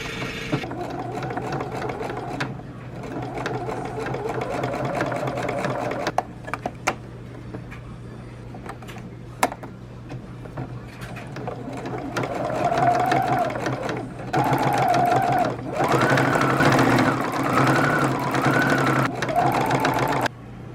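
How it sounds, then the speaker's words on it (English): Sewing machine top-stitching a capelet in a laundry room, running in bursts of rapid mechanical chatter with short pauses and a louder stretch toward the end, heard close with a steady hum underneath. "give the capelet some top stitching"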